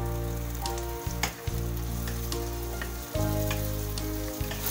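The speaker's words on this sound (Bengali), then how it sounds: "তাহলে আমাদের এটা কিছুক্ষণের জন্য ভাজতে হবে।" Masala ingredients fry steadily in a pan, a dense continuous sizzle with a couple of brief stirring knocks, close and loud, no voices.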